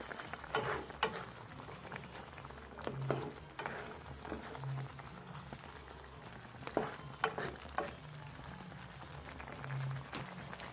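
Ghanaian okra soup cooks in a pot with soft, low bubbling and faint sizzling, broken by gentle stirring and clinking sounds at close range.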